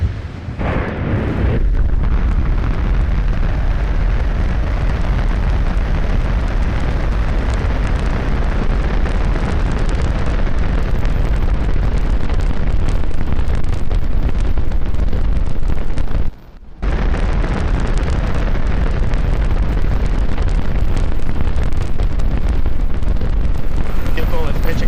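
SpaceX Starship rocket launching on Raptor engines, a massive continuous roar that fills the whole range with heavy crackle and wind buffeting, loud and sustained throughout, with one brief dropout partway.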